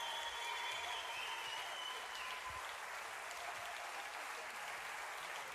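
Steady audience applause at a concert after a singer's performance, a dense even wash of many clapping hands lasting the whole stretch.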